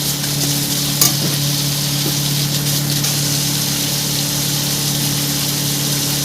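Hilsa fish in mustard sauce with slit green chillies frying in a pan, a steady close sizzle and hiss with a low hum throughout and a brief knock of stirring near the start.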